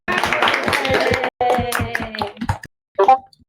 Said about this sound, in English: Last round of applause for them.